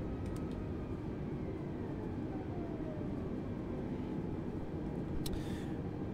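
Airbus A320neo engines in Microsoft Flight Simulator 2020 spool up as the airliner taxis onto the runway, a loud, steady low rumble with a broad roar that holds constant throughout.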